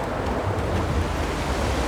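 Small waves wash over a sandy beach where children run on the wet sand, a steady soft rushing surf with light wind and no break in the sound.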